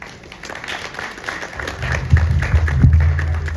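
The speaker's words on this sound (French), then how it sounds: "Un tonnerre d'applaudissements pour M." Audience applause at an awards evening for excellence and prestige, a dense patter of clapping that swells and grows louder over a few seconds.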